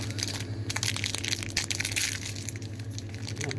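Lotus Biscoff biscuits crumbling and crunching inside their packet, a close, continuous crinkly rustle of broken pieces and wrapper.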